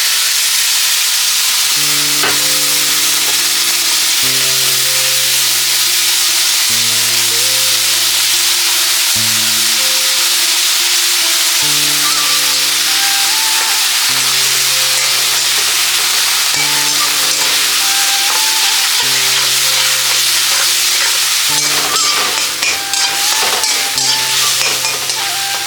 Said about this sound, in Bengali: এর মধ্যে দিয়ে দেবো হচ্ছে কাঁচা লঙ্কা, পেঁয়াজ আর রসুন 2 কোয়া দিয়েছিলাম, সেটা পেস্ট করে এটার মধ্যে ঢেলে দেবো।